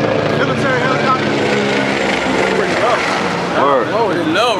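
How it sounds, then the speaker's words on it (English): A military helicopter flies low overhead, giving a loud, continuous, broad rotor and engine roar that wavers and pulses near the end. "That was a military helicopter."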